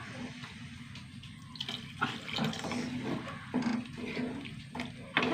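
Running water splashes steadily as it is poured into a curry, with clinking and brief kitchen clatter over the top.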